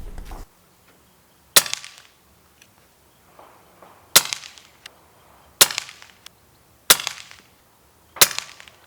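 An Umarex Notos Gen 2 air rifle fires about six sharp, loud cracks, each crisp report standing alone with a second or more of quiet between shots.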